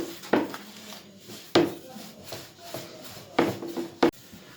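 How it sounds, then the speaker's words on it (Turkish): Manti dough is rolled out thin on a table with a wooden rolling pin, producing several soft rubbing and knocking strokes at uneven intervals, close and fairly quiet. "İncecik bunu açayım."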